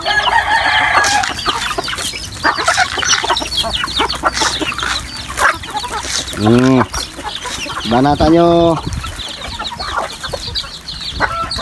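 Chickens cluck and a rooster crows twice, close and loud, amid a busy outdoor din of fowl, with a brief bit of talk near the start.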